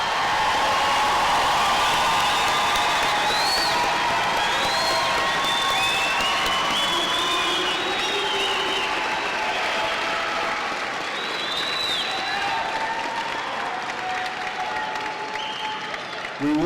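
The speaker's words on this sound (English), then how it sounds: "Audience, let's give these students a round of applause." A large audience at a technical college graduation ceremony applauds the graduating students, with dense, steady clapping and some cheering sustained throughout and voices mixed into the crowd.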